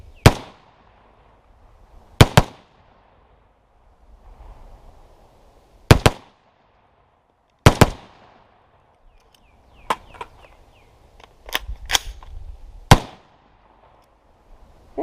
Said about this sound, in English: So I'm gonna do some more shooting